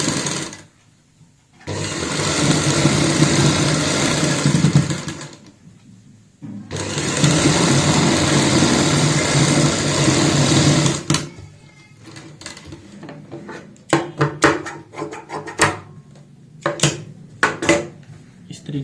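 A sewing machine stitches lace onto a palazzo hem in two long, steady runs of rapid mechanical whirring, up close, broken by short pauses, then several quick bursts of stitching near the end.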